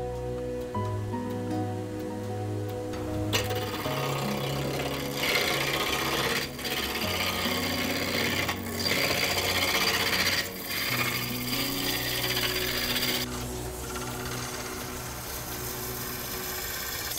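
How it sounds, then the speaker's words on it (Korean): Steamed wood, not dried, being shaped round by hand on a master craftsman's workbench to make a moktak, a wooden temple block. Steady rasping and scraping strokes continue throughout, with periodic pauses, under a low tonal background. "모가 난 나무를 우선 둥글게 다듬어 나가는데 어느새 동글동글한 모습이 되었습니다."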